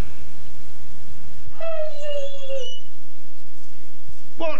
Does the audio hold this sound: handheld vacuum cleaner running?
no